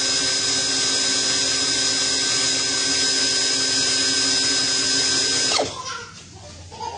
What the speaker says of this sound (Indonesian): Sekarang kita akan tes RPM dari keduanya dulu. Yang pertama dari Dovat di kecepatan 1.